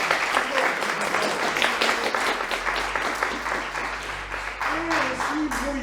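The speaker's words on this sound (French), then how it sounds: "Mais on peut l'applaudir." A crowd at a school graduation ceremony for final-year students applauds steadily, a continuous wash of clapping with a few voices rising over it near the end.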